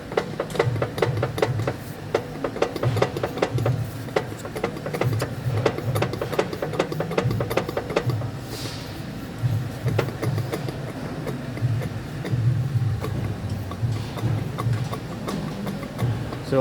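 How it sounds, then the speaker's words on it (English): A rotating prop shaft on a Freelander 3.2 petrol, turned by hand, giving repeated clunky knocks from the IRD unit. The knocks fall in a steady rhythm, close and moderately loud, with faint background noise. "the first noise you're hearing here is just the noise from"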